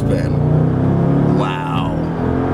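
A 2004 Mercedes-Benz SL55 AMG, a 493-horsepower supercharged roadster, accelerates hard with wheel spin; a loud, close engine rumble rises in pitch and then eases, with a voice speaking over it.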